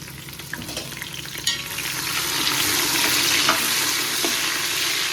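Onions sautéing to golden brown with mint and coriander in a pan for prawn biryani, a loud close sizzle that swells as stirring scrapes and taps come through, no talk.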